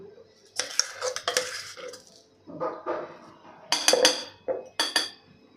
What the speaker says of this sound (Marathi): आता ही डाळ वाटलेली सगळी आपल्याला कुकरच्या डब्यामध्ये काढून घ्यायची आहे